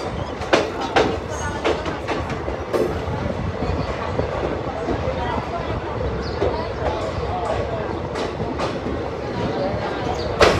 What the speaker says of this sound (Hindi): तो देखो ट्रेन यहाँ पे स्टेशन पे पहुँच गया, फिर भी स्लो होने का नाम नहीं ले रहा है